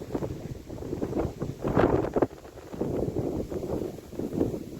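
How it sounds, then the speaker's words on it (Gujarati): Strong wind buffets the microphone in rumbling gusts that rise and fall for the whole stretch, with no voices, in a farm field of mung bean crops. "પવન આજ બહુ હે."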